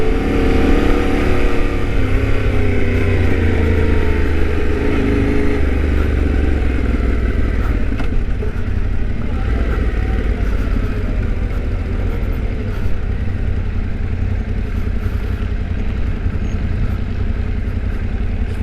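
Yamaha Tenere T7 motorcycle being ridden, a steady loud engine drone with low rumble and a few gear changes, broad wind noise over it, no talk.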